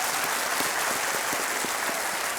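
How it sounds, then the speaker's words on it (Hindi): Steady studio audience applause on a TV quiz show, a dense wash of clapping from a crowd lasting the whole moment with no pauses. "एक बार फिर जोरदार तालियां उनके लिए।"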